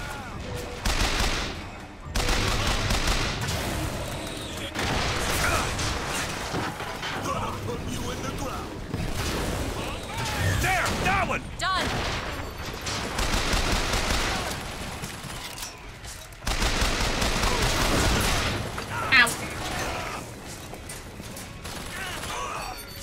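A machine gun turret in the video game Bioshock Infinite fires loud, rapid bursts that come in repeated volleys with short pauses, mixed with other gunfire and crashes while a voice talks over the action.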